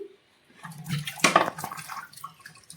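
Water splashing and running while a casserole is rinsed by hand, a close, uneven wash with a brief louder gush in the middle and scattered clinks of the dish.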